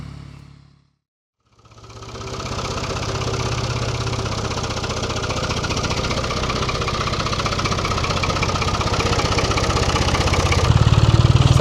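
A repaired farm tractor's engine idles close by on a Portuguese farm, starting after a brief silence and then running in a steady, loud rumble that grows slightly louder toward the end, with no voices.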